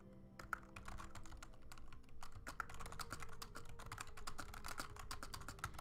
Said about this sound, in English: I hope you guys like the sound of keyboards,